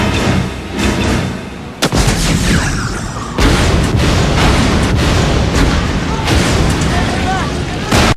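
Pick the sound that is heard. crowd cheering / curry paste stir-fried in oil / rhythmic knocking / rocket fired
rocket fired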